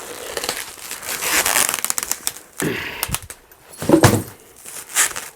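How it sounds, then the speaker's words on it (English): Plastic wrapping is ripped off a new guitar in bursts of loud crinkling and tearing, with sharp rustles and crackles coming and going unevenly and close by. "I'm just gonna rip the plastic off."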